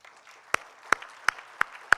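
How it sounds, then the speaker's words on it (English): Five sharp, separate hand claps ring out in a quiet lecture hall, evenly spaced about a third of a second apart, close and distinct like the start of applause during a memorial lecture. "spontaneous applause throughout the room for India"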